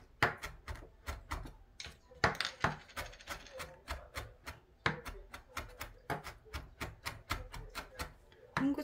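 Green and red chili peppers being finely chopped with a knife on a board, a rapid run of sharp, close, evenly spaced chops.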